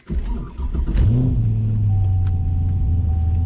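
A car engine cranks from a completely cold start, with a short stretch of starter churning before it catches. The engine then settles into a steady, loud, close idle.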